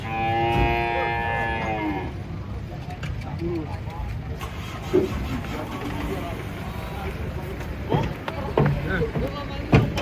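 A long-horned cow moos loudly and drawn-out near the start, followed by a noisy outdoor scene at cattle unloading from a truck, with people talking over a steady background rumble.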